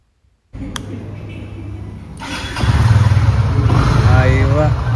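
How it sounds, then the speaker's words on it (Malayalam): A 2025 Honda CB300F flex-fuel motorcycle running on an 85/15 ethanol-petrol blend fires up close by. It settles into a steady idle, then climbs to a louder, higher rev that holds to the end. "ഞാൻ ഇനി വാഹനത്തിന്റെ സൗണ്ട് കേൾപ്പിച്ചു തരാം."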